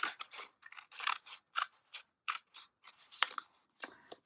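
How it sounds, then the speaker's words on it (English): Scissors trim glossy paper from a disposable coffee cup for a handmade journal, giving a close, quiet series of crisp snips in uneven bursts. "I could trim that down a little"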